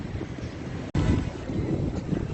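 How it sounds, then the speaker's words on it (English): Heavy wind buffets the microphone in a continuous low roar while walking outdoors in Vietnam, with a brief dropout near the start and no speech. "It's very windy."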